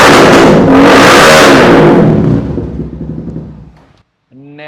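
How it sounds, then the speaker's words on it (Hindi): Chinese 250cc twin-cylinder motorcycle styled as a BMW M1000RR, fitted with an SC Project slip-on exhaust, revving loud and close in a long sustained blast that fades down, then a short burst of voice at the end. "निहायत ही कोई बदतमीज मोटरसाइकिल है ये, इतनी साउंड"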